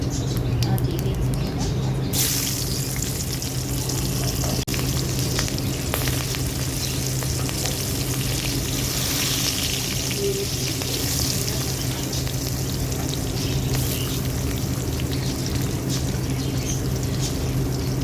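Potatoes fry in a pan with black cumin seeds, giving a steady, close sizzle that runs the whole length with a low background hum and occasional stirring scrapes.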